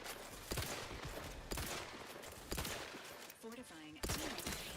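Several bursts of gunfire in the video game Outer Worlds 2, quiet and spaced about a second apart, with game sounds and a brief voice in between.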